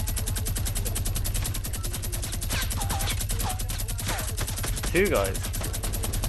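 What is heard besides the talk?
gunfire in video game Fortnite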